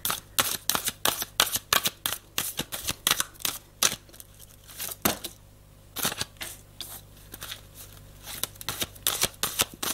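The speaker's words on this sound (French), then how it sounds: "c'est parti pour votre tirage spirituel et les conseils de Michael" A deck of cards is shuffled for a spiritual card reading, a steady run of close, crisp riffling snaps and flicks repeating rhythmically with no talking.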